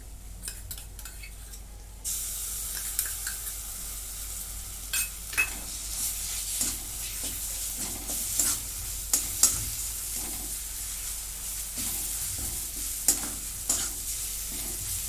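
Ginger, garlic and green chili fry over low heat in a pan for a chickpea and eggplant dish, a steady sizzle broken by repeated clinks and scrapes of a spoon stirring.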